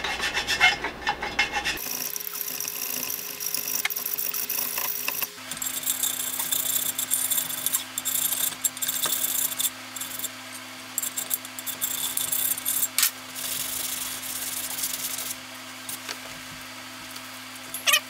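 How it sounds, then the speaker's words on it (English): Steady rasping of a file and sandpaper working down jagged, hardened JB Weld epoxy on an electric unicycle, continuous close scraping strokes with a few sharper clicks, no talking. "What I'm doing is just sanding this all down. Might even need to file some of it down because it's quite jagged."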